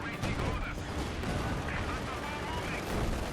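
Heavy, sustained gunfire and explosions rumble through a World War II battle at Smolensk in Company of Heroes 2. The dense, continuous barrage comes with a voice talking over it.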